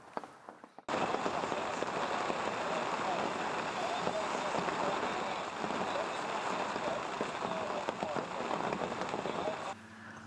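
Torrential rain pours down at a carp fishing pool, a steady, loud hiss of drops drumming on surfaces that begins abruptly after a quiet second and continues unbroken.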